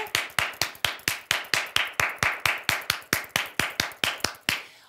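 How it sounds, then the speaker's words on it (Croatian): Children clapping in a school class after a short play, a steady rhythmic run of about twenty sharp, even claps in unison, close and loud with no voices. "Da čujem kako plješćete."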